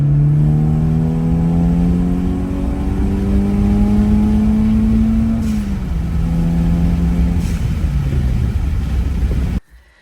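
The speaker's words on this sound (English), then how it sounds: "Go ahead and give it some gas." A used car's engine revs under load during a test drive, a loud continuous rumble whose pitch climbs steadily, dips, then climbs again, close to the microphone before cutting off abruptly at the end.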